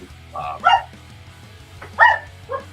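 A dog barks in short bursts, a couple of yips then a louder pair of barks, close by over a low steady hum.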